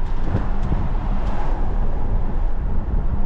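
Deep, steady rumble of a Mercedes V8 engine that stays loud throughout, with wind and road noise blended in and no talking.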